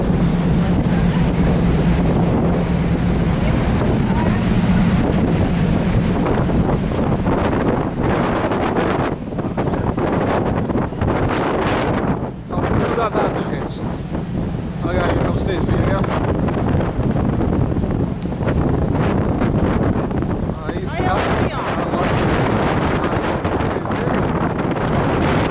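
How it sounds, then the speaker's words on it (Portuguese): Strong wind over the English Channel, roaring and buffeting the microphone loudly and without a break, with gusts rising and easing throughout. "Vento danado aqui"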